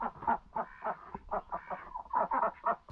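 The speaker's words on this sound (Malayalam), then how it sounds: "ഗിരിരാജൻ കോഴി, താറാവ്, ഒരെണ്ണം മുട്ടയിട്ട് വെച്ചിട്ടുണ്ട്." Giriraja chickens cluck in short repeated bursts at a farm stay near Fujairah, close and moderately loud, in an uneven rhythm with brief pauses between calls.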